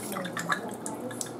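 Water trickles and drips from a Haier HLP21N portable washer as it drains, with soft irregular gurgles and splashes close by at a low, steady level.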